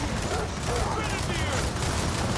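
Rapid video game gunfire rattles continuously beneath steady talking from players, a dense stream of shots that never quite stands alone.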